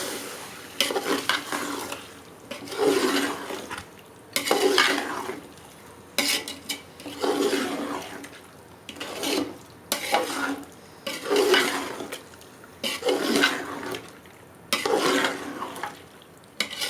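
Chicken and potato curry, chicken aloo gosht, fried and stirred in a pan, with repeated bursts of scraping and sizzling stirring, roughly eight rhythmic strokes separated by short pauses, close and clear with no talk.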